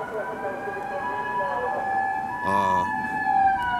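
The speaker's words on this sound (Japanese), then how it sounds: "こうやってね、ピーポーピーポーと、物騒なね音が鳴る始末でございますよ" An emergency vehicle siren wails close by at night around a park in Japan during the Christmas season, its steady rising and falling tone running throughout over light traffic rumble, with a brief voiced exclamation partway through.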